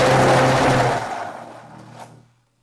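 A blender whirs loudly as potatoes are mixed with milk, then winds down and fades out within a couple of seconds, leaving near silence.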